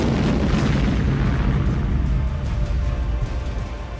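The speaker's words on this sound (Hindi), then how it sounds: "बेहद तेज रफ्तार से आगे बढ़ती इस कार में अचानक विस्फोट होता है और कार के परखच्चे उड़ जाते हैं" A car explodes on a street in Nizhny Novgorod, Russia: a loud, sustained roaring rumble with deep booming weight that slowly eases off, with no voices.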